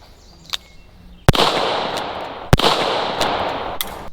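Two sharp, loud gunshots from a Taurus Governor revolver firing CCI shotshells, roughly a second apart, each with a long ringing outdoor decay, plus a few faint clicks before and after.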